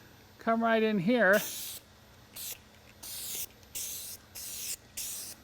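A light coat of colorant is sprayed onto a leather seat in six short hissing bursts, close and fairly quiet, following a brief spoken phrase.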